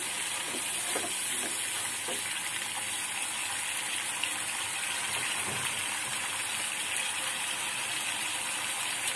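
Chili and turmeric powder frying in hot oil for mustard hilsa curry, a steady soft sizzle and hiss throughout with a few faint stirring scrapes, close and moderately quiet.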